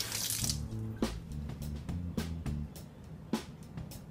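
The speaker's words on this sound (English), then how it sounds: "Seeds are new, so I'm gonna rinse them once" Tap water runs quietly into a sink while sprouting seeds are rinsed, a soft continuous flow broken by several sharp clinks and knocks at irregular moments.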